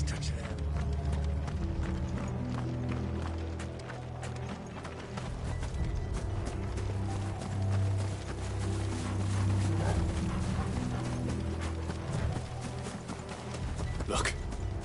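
Horse hooves clip-clop rapidly in a steady galloping rhythm in the video game Final Fantasy XVI, with rumbling and creaking mechanisms under voices talking.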